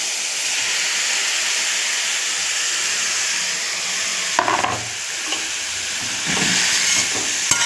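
Tomatoes go into a hot pan for egg masala curry, giving a steady bright sizzle and hiss of frying, with scraping stir sounds partway through.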